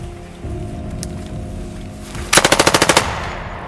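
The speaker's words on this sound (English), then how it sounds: "except for occasional machine gun fire." Machine gun fire during military training: a rapid burst of about eight loud, evenly spaced shots near the end, following a steady low hum and distant background noise.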